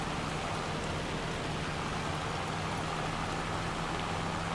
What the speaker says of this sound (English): So we'll sure have to get it done in the rain.